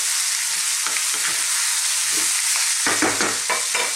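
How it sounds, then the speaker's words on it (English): Potato chickpea curry frying on high heat in a pan, with a loud continuous sizzle and short scraping stirring strokes that grow more distinct toward the end, close up. "Again, just another 3 or 4 minutes on a high heat. Keep stirring it."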